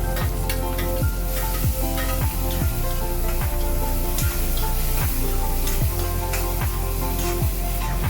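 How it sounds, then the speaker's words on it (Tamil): Onions and tomatoes sautéing in a home cooking pan, giving a steady, loud sizzle that continues without a break, with regular soft scraping strokes from stirring. "வெங்காயம் நல்லா வதங்கினதுக்கப்புறம் தக்காளியும் போட்டு வதக்கியாச்சு."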